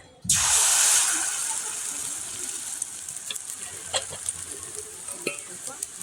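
A sudden loud hiss as semolina batter hits hot white oil, settling into a steady sizzle with a few light clicks of a utensil.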